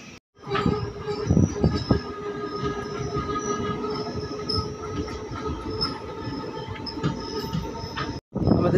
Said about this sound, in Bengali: আমাদের ট্রেন এখন ছেড়ে দিল কাঁথি স্টেশন